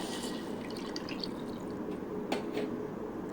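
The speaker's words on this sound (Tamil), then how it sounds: "சூப்புக்கு தேவையான அளவு தண்ணி நீங்கள் சேர்த்துக்கலாம்" Water pours steadily into a pot for drumstick-leaf soup, making a soft, continuous splashing rush with a few faint drips near the end.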